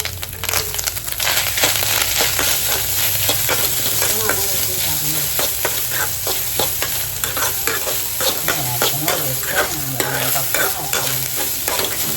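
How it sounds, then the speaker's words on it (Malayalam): Grated coconut stirred and fried in a pan, a continuous close sizzle with dense scraping and clattering strokes of the stirring utensil, steady and loud throughout. "ബാക്കി തേങ്ങ നമ്മൾ വറക്കണം കേട്ടോ"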